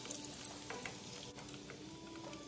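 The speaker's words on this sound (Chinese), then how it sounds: "接着再将剩下的肉块继续油炸至全部完成" Chunks of meat deep-frying in hot oil for a charcoal-or-pan BBQ dish, a steady close crackle and sizzle with faint scattered pops throughout, no voices.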